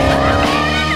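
A Maserati engine roars during a sport exhaust valve test, a brief, loud and steady burst of revving with no voices.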